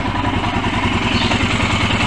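A Royal Enfield motorcycle with a starting problem runs steadily at idle, close up. It gives a loud, continuous, thumping engine rumble with mechanical clatter and no talking.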